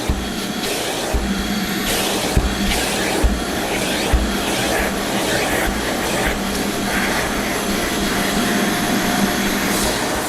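A vacuum cleaner running inside a car interior, a steady loud whooshing roar throughout with occasional thumps and bumps as the nozzle moves around.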